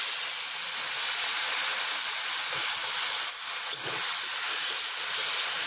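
Water is poured into a spice paste frying in a pan for a vegetarian curry, producing a loud, continuous steamy sizzle and hiss close up that barely lets up through the whole stretch.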